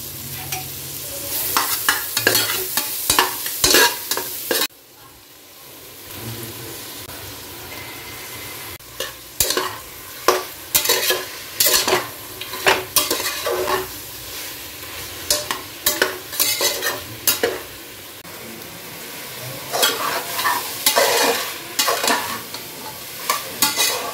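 Ginger, along with garlic, sautéing in a pan for a chicken stew, giving a steady sizzle broken by repeated scraping stirs and utensil clatter; no voices.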